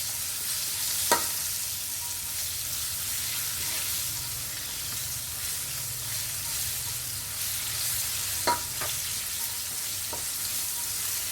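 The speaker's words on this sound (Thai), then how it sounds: "นี่ค่ะพลิกไปพลิกมา คนเขาให้โดนความร้อนให้ทั่วนะเขาจะได้ สุกเหลืองทั้งสองด้านสม่ำเสมอกัน" Boiled pork intestines fry in a hot pan with a steady, quiet sizzle, broken by a few sharp clicks and scrapes as the pieces are stirred and flipped; no one speaks.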